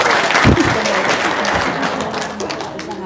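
An audience at a talk and testimony session breaks into applause, steady mid-level clapping with a few louder thumps near the start, continuing throughout.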